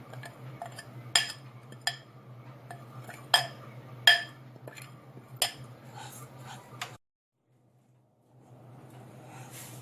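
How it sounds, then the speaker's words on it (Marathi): Mukhwas mixture dry-roasting in a pan over low heat, with several sharp metallic scrapes and clinks of a spoon against the pan standing out over a steady low hum, then a brief near-silent pause before soft background noise returns. "आता हे मी मिश्रण स्लो गॅसवरतीच जवळजवळ 5-1 मिनिटं भाजून घेणार आहे चांगलं।"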